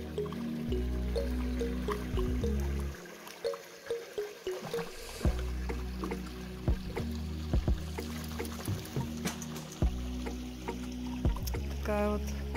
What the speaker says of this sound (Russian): Такая вот лесная маленькая речушечка, скорее ручеек.